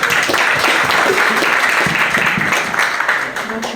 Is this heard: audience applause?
yes